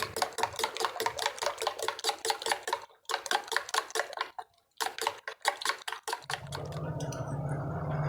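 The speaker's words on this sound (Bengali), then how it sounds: "এরপর আবারও ভালো করে আমি ফেটিয়ে নিচ্ছি" Beaten eggs with grated carrot are whisked hard in a bowl, making fast, rhythmic clinking and tapping strokes with brief pauses, before the sound gives way to a low background hum.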